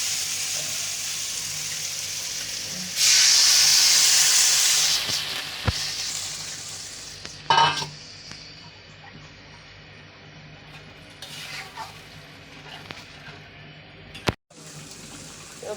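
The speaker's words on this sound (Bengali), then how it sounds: "আমি জল দিয়ে দিব।" Water is poured into a sizzling Bengali fish curry in a pan, giving a loud rush and hiss at first, then a quieter bubbling simmer with a few clinks of utensils.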